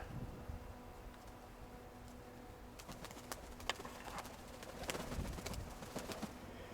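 Pigeons at a loft at feeding time, soft cooing low under steady outdoor background noise, with some scattered clicks and flutters toward the end; no one speaks.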